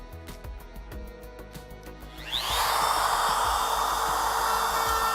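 Router fitted with a flush trim bit, its bearing riding along a CNC-cut edge to trim off excess material. Light tapping comes first, then the motor spins up midway into a loud, steady whining roar that holds to the end.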